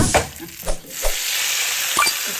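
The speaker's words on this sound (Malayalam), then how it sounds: "നന്നായിട്ട് ചെറിയ ഉള്ളിയൊക്കെ കടുവും ഒക്കെ നന്നായിട്ട് പൊട്ടി വന്നിട്ട് നമുക്ക് ഓഫാക്കിയേക്കാം ഫ്ലെയിം." Shallots and mustard seeds splutter in hot oil for a Kerala curry, a loud frying sizzle with several sharp pops and stirring scrapes close by, no voices.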